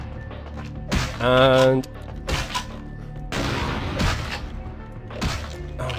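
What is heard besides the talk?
loud shotgun firing in the video game Vampire the Masquerade: Bloodlines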